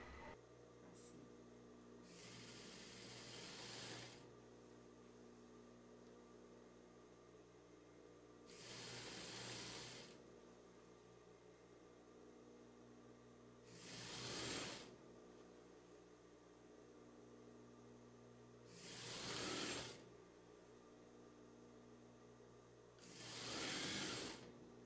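A sewing machine stitches fabric for summer shorts in five separate bursts of a few seconds each, a steady close-up mechanical whir that stops and restarts with quiet pauses between runs and no talk.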